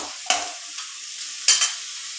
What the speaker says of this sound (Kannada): ಜಾಸ್ತಿ ಏನು ಫ್ರೈ ಆಗೋದು ಬೇಡ, ಸ್ವಲ್ಪ ಆದರೆ ಸಾಕು.